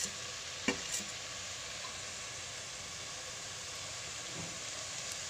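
Masala spices sizzle in a pan for a vegetable kurma, with a steady broadband frying hiss and a few sharp stirring scrapes near the start and around four seconds.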